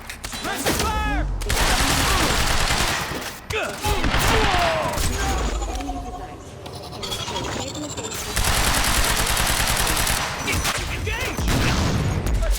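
Intense firefight in the Quantum Break video game, with rapid automatic bursts and single shots layered over shouting voices and music, loud and nearly continuous throughout.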